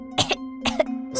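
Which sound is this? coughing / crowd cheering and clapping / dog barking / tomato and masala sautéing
coughing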